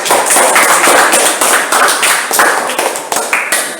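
Hands clapping as a class applauds a student group after its presentation at a high school, a lively, uneven burst of close claps lasting several seconds.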